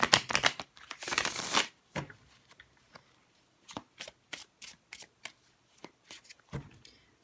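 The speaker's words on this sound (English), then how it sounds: "I'm just going to give them another bit of a shuffle here." Tarot cards from a Witch's Tarot deck being shuffled by hand, a dense riffle at the start followed by scattered soft taps and slides, close and quiet with no talking.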